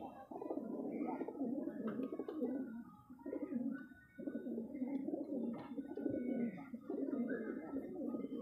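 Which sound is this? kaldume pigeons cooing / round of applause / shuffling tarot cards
kaldume pigeons cooing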